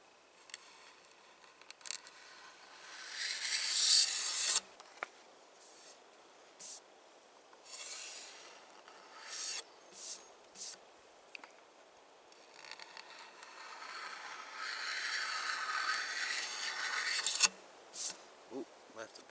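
A scraper rasps varnish clear coat off a wooden axe or hammer handle in short, intermittent strokes, with quiet pauses between the scraping passes.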